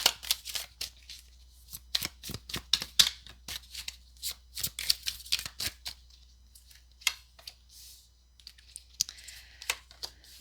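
Tarot deck being shuffled by hand, with quick bursts of crisp card riffles and slaps in close, irregular clusters, alone without talk.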